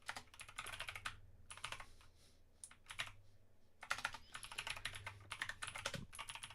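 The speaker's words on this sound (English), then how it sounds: "Because I can just type, and then while I'm typing" Clusters of quick clacking keystrokes on a computer keyboard while code is written, arriving in irregular bursts separated by short pauses, close and moderately quiet.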